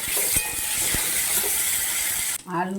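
Potatoes seasoned with turmeric and salt fry in hot oil in a pan, a loud continuous sizzling hiss with a few clinks, cutting off abruptly near the end as a voice begins.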